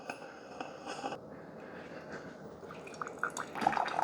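Quiet trickling and dripping of water from a Cuisinart SS-12 coffee maker after needle cleaning, a thin continuous stream with a few brighter drips toward the end, close and soft.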